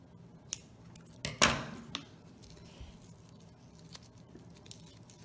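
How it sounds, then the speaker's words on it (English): Scissors snip through ribbon while a hair bow is made: one sharp, close cut stands out among a few lighter clicks in an otherwise quiet room. "And then just cut that excess piece."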